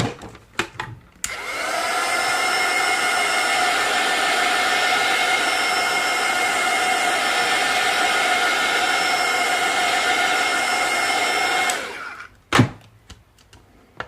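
A hair dryer blows a steady, loud whoosh for about ten seconds, drying the painted galaxy background of an artist trading card. A few clicks and knocks come before and after.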